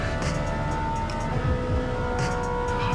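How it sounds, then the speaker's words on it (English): Ferrari F40 engine in Gran Turismo 7 racing against Group 3 cars, a steady, fairly loud revving drone with rising and falling pitch sweeps as the car accelerates and shifts, alone without talk. "Oh, listen to that F40. This is probably the best sounding car in the game."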